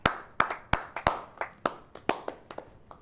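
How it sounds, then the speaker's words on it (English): A single person claps about a dozen times, sharp dry smacks close to the mic in a loose, slightly uneven rhythm, each one ringing briefly in a quiet room. "Let's clap it up for that."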